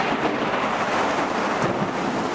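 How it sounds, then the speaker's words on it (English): A heavy rainstorm roars outside a front porch, with a low thunder rumble blended into the dense, loud, steady wash of rain and no voices. "Wow, a lot of thunder."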